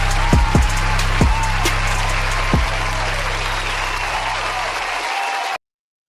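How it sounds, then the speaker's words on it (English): An audience claps loudly and steadily for a show host, a dense continuous applause heard up close that carries on for about five seconds before cutting off abruptly. "Give a round of applause."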